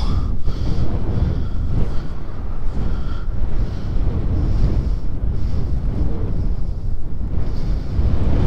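Gusty wind buffets the microphone outdoors in stormy gust-front weather, a loud, continuous low roar that surges and dips across the whole stretch with no talking.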